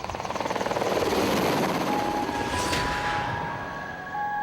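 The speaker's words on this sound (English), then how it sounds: "woken in the middle of the night by a loud sound of rotor blades" A Chinook helicopter's rotor blades thump in a rapid steady beat that swells loud as it passes close overhead at night over a farm field, then a high whine lingers as it fades.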